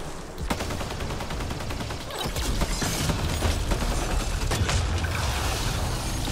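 Rapid gunfire and grenade explosions from a Mass Effect Andromeda battle sound as a dense, continuous barrage, loud and up close, with bursts of automatic fire and heavier booms. Nobody speaks.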